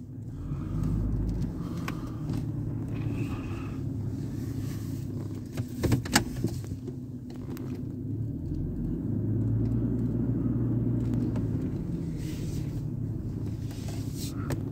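A truck being driven slowly and parked on a parking pad after a storm, heard from inside the cab as a low engine rumble with a brief clatter partway through.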